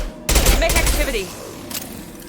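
Gunfire in the Mass Effect 2 video game: a loud burst of rapid shots starting abruptly, with a couple of fainter follow-up shots trailing off.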